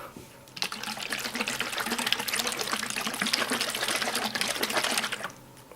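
A homemade gun oil mixture is shaken hard in a closed container, making a rapid, continuous rattling slosh for about five seconds, close and fairly loud, with no talking.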